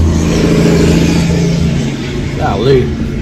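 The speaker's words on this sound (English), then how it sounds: "That truck is loud as crap" A loud truck engine rumbles past outside a Walgreens store, a heavy low drone that swells and fades over a few seconds while someone talks over it.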